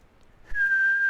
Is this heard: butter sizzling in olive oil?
no